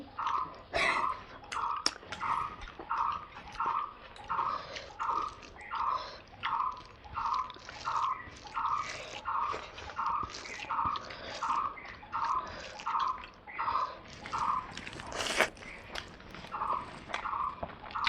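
Spicy mutton curry with rice being eaten, with close, wet chewing in a steady rhythm of repeated bites, each mouthful squishing distinctly, and occasional light clicks and shuffles in the background.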